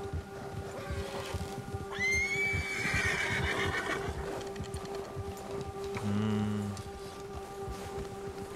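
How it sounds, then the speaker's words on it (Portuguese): A horse in the video game Red Dead Redemption 2 gives a loud rising whinny that trails off, over steady game ambience with hoof and rustling sounds, followed later by a brief low snort. "tem que tomar cuidado porque o cavalo fica loucão"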